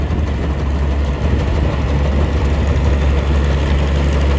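A machine's engine is held at high revs to blow out fresh grass clogging it. It is a loud, steady, low droning hum that runs unbroken throughout with no voices.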